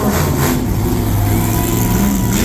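Monster truck Shockwave's engine revs hard and continuously through a freestyle run at a Middletown, NY motorsports event, a loud, close, sustained roar with rising and falling throttle and no talk over it.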